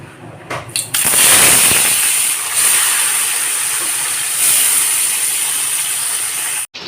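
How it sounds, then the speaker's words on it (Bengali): Bhola fish hit hot mustard oil in a wok on a low flame, bursting into a loud, dense hiss after a brief clatter, then spitting steadily before cutting off sharply. "কড়াইতে সর্ষের তেল দিয়ে দিয়েছি তেল গরম হয়ে গেছে মাছগুলোকে ভেজে নেব"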